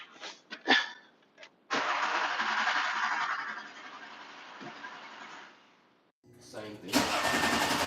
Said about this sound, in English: I'm gonna try to crank it one more time